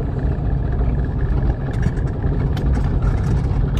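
Car engine running steadily with an AW-4 automatic transmission, a continuous low rumble close by with a faint rattle on top, no voices.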